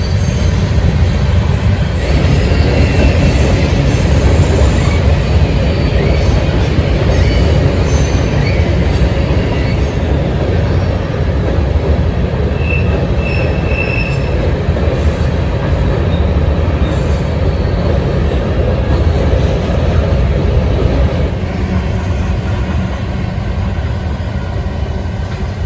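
A grain train rolls past on the railroad near Cameron and Galesburg, Illinois, a loud, steady rumble of wagons and wheels with faint squeals and clatter, continuous and close throughout.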